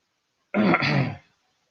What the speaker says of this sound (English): Almost coughing up my lung.